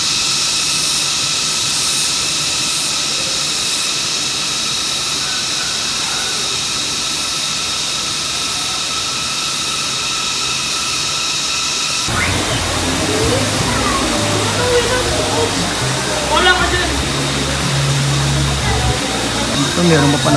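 Water gushes from the main spring source at a resort in a continuous, loud rushing roar, with a harsher, splashier texture toward the end.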